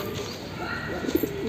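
A pigeon coos briefly and softly against a steady background hiss, a short low call near the end of a brief stretch.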